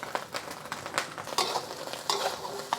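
Chinese sausage, pork belly and mushrooms are stir-fried for sticky rice, with a close, soft sizzle broken by repeated scraping strokes of the spatula.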